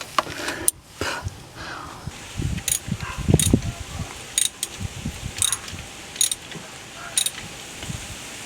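A ratchet tightening a small bolt on the fuel filter of a 2004-2006 T1N Sprinter van, several bursts of quick clicking close by, with short pauses and brief talk in between.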